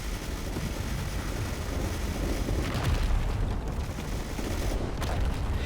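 Ships in the space game Space Engineers fire on an asteroid, a continuous dense barrage of booming, crackling blasts with a few sharper bursts standing out, loud and unbroken.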